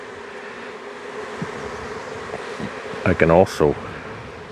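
Honeybees hum in a steady, continuous drone around hive brood frames holding fresh dandelion nectar, close and constant throughout, while someone speaks briefly over the buzzing near the end.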